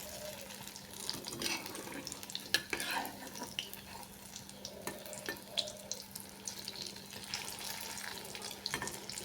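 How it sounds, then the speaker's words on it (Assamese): Pitha frying in a pan, a faint, continuous sizzle broken by scattered scrapes and clinks as the pieces are stirred and turned, with no talking. "কি সুন্দৰকৈ ভাজিছোঁ।"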